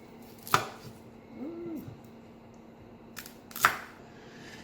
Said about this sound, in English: you want to try to cut them as thinly as possible, the radish